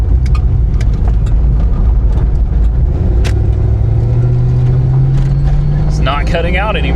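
A rattling old Foxbody Mustang GT runs steadily with a loud, continuous engine rumble and a rising drone, heard up close from inside the car, with a brief squeaky whine near the end.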